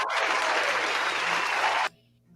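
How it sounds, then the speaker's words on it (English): Studio audience gives a short, dense burst of clapping that stops abruptly after about two seconds, leaving a quiet room. "Yes, we needed applause on that."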